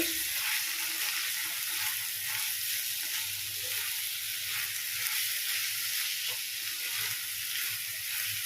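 Spiced rice frying in ghee in a pot over medium heat for paneer pulao, giving a steady, close hiss and sizzle with faint stirring scrapes running the whole time, and no talk.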